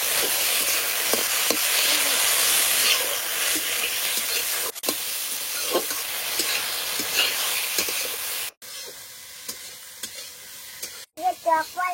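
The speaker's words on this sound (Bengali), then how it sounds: "দিয়ে টক ফল হালকা একটু ভেজে নিয়েছি," Chukor sour fruit with turmeric and salt fries in a pan, a close steady sizzle with stirring scrapes, briefly interrupted by a couple of cuts before quieter frying and clinks at the end.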